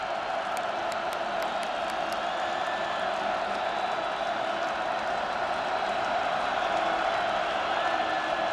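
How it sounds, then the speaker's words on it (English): Football stadium crowd at an NDSU versus Western Illinois college game roars in a steady, sustained wash of cheering, with a few sharp whistles near the start and no clear single voice. "Crowd turning it up a notch"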